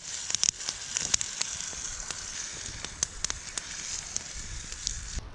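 Ham frying in a pan at an outdoor cook-up in the rain, a steady low sizzle and crackle with scattered sharp pops and spits throughout.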